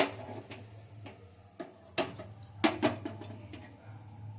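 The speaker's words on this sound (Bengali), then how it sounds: "এবার গ্যাসটা আমি জ্বালাবো" A kitchen gas stove burner is lit with its igniter, giving a few sharp, separate clicks spread across a few seconds over a low steady hum, fairly close and moderately loud with no talk.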